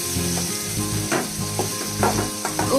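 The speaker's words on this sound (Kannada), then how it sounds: "ಎಣ್ಣೆಲಿ ಫ್ರೈ ಮಾಡ್ಕೊತಾ ಇರ್ಬೇಕು." Raw mango pieces fry in oil for a mango palya, a steady sizzle with periodic scraping stirs, close and fairly loud, no voices.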